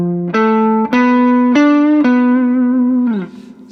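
A guitar plays a minor 7 flat 5 arpeggio, four single notes one after another, each ringing on with a slightly driven tone before a final note slides down.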